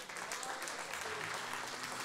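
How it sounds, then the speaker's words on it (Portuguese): A church congregation claps in praise of the Lord, a dense, steady wash of applause from many hands with a faint voice mixed in. "Vamos aplaudir o Senhor por isso."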